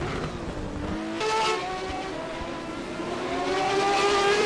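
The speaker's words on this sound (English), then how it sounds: "I will hear some Group C cars getting overtaken." Group C sportscars racing at Road Atlanta, engines howling loud and close as cars overtake, pitch rising and falling across several passing machines with a steady roar throughout.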